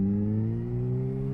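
A Suzuki GSX-S motorcycle engine runs with a steady, humming drone, its pitch rising slightly as it sounds on at moderate loudness without any voices.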